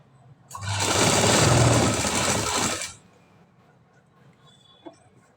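Sewing machine stitching a lining onto a high-neck blouse, one steady whirring run of about two seconds that stops abruptly, followed by quiet room tone and a faint click.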